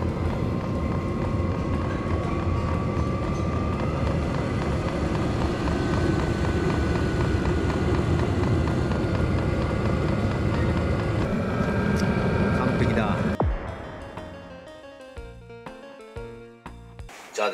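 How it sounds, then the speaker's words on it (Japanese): An FF car heater runs on a test after being taken apart for quieting, with a loud steady droning whir and faint ticking for about thirteen seconds before it cuts to quieter intermittent clicks. "さあ、ただいま今試運転中でございます。"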